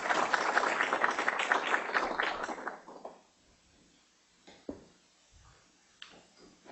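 An audience at an MIT public forum applauds to welcome a speaker to the podium. Dense, fairly loud clapping fills the first three seconds, then quickly thins and dies away, leaving a quiet room with a few faint stray noises.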